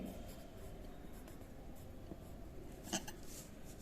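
A pen writes place names onto a paper map, a faint, close scratching that ends in one slightly louder tap.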